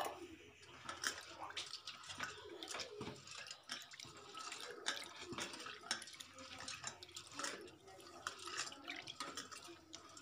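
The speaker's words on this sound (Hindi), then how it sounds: "और दाल को अच्छी तरह से वॉश कर लूँगी।" Lentils (dal) being rinsed in water in a pot in a village kitchen, with close splashing, swishing and dripping, irregular bursts of water movement throughout.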